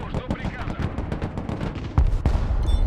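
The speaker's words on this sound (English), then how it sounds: "That was a nuke." A nuclear blast detonates in the real-time strategy game Broken Arrow, a loud burst of heavy booming and crackling gunfire-like impacts that swells into a sustained deep rumble near the end.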